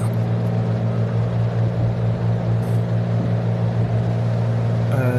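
A jet airliner in Flight Sim 2020 rolls down a wide runway at Naples and rotates, its engines a loud, constant drone with a steady low tone that never lets up.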